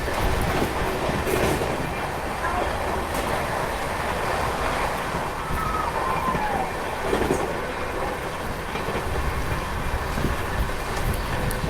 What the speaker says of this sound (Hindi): क्या ही रफ्तार में दौड़ रही है अपनी अमृत भारत एक्सप्रेस